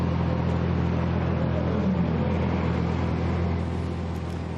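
A KTM GT2 race car, number 16, rolls through the pit lane at Dijon, giving a steady, muffled engine rumble and drone that fades slightly near the end.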